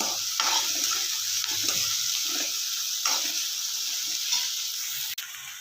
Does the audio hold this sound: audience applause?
no